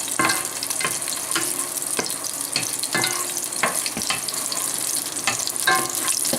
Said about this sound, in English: we're going to start frying up the pork chops